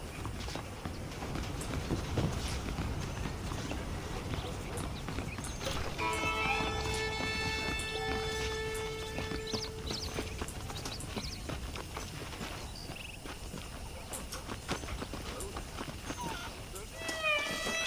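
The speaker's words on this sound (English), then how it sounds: "The horses are saddled up over here" Horse hooves clip-clopping in the video game Red Dead Redemption: Undead Nightmare, a rhythmic trot under game music and ambience, with a character talking over it.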